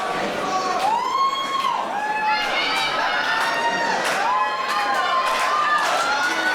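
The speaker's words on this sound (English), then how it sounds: "You can hear the anticipation, the screams from this crowd here in the German capital" A wrestling crowd in Berlin screams and cheers in anticipation before a match, a loud, continuous roar with rising and falling shrieks and whistles throughout.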